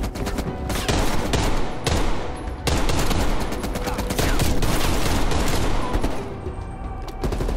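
Sustained heavy machine gun fire in Black Ops Cold War, dense rapid bursts with loud overlapping shots and explosions filling the whole stretch, only brief dips between volleys.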